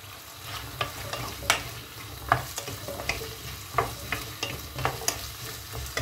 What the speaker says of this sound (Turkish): küp küp doğradığım 4 tane patatesim vardı. Onları da şöyle bir salçamla beraber kavuracağım